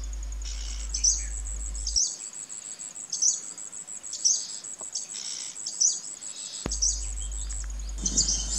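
A crimson-backed sunbird, India's smallest sunbird, calls in South India with short, high, thin chirps repeated about once a second, fairly faint and alone against a quiet background.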